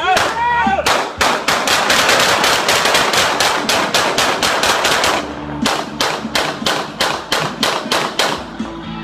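Guns fired into the air crack out in a loud, rapid series of sharp reports, some bursting in quick succession like automatic fire, with a short pause midway before the shots resume.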